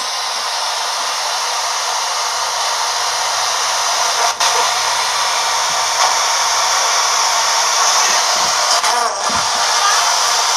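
During a ghost hunt at the Jabez Smith House, a spirit box radio sweeps through stations, giving a constant loud hiss of static with faint flickers and brief clicks and no clear voices.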